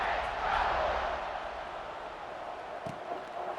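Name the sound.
stadium crowd buzzing in EA Sports College Football 26 video game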